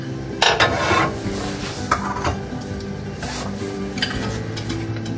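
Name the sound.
ghee melting and being stirred in a wok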